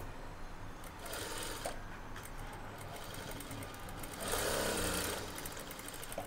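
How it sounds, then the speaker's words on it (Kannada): A sewing machine stitching the side seam of a blouse runs in a steady whirring, rattling drone that speeds up and grows louder near the end, close by and heard alone. "ನೋಡಿ, 2 ಸ್ಟಿಚ್ ಹಾಕ್ಕೊಳ್ಳಿ."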